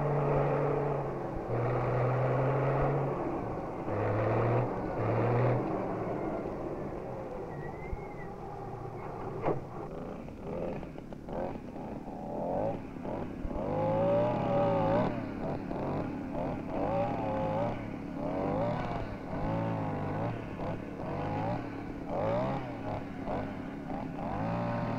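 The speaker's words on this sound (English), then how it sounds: "The articulated frame steered skidders are four-wheel driven and capable of excellent off-road mobility." Articulated-frame-steered, four-wheel-drive forestry skidder tractors work in a Swedish logging area, their engines rumbling and revving unevenly at moderate distance through the whole stretch.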